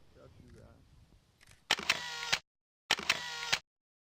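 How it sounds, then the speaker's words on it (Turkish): Two bursts of rapid camera shutter clicks at a wedding photo shoot, each lasting under a second, loud and close, after faint background voices. "Pozlar veriliyor, deklanşöre basılıyor."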